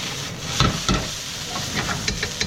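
Spanish rice crisping in a frying pan gives a steady close sizzle and hiss, broken by a few louder stirring scrapes early on and lighter clicks near the end.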